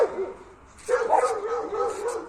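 Dogs at play give a few close, sharp barks and yelps, mixed with people talking nearby.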